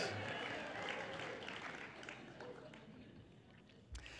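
A lecture audience claps in a dense, steady patter at a distance, fairly faint, easing slightly toward the end with one brief knock near the close.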